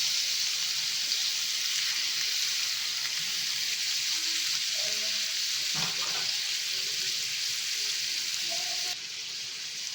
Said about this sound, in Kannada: ಇವಾಗ ನಾವೇನು ಫ್ರಾನ್ಸ್ ತೊಗೊಂಡಿದ್ವಲ್ಲ ಅದು ಇದಕ್ಕೆ ಹಾಕ್ತಾಯಿದ್ದೀನಿ. ಸ್ವಲ್ಪ ಫ್ರೈ ಮಾಡ್ಕೊಳ್ಳೋಣ ಮೊದಲಿಗೆ.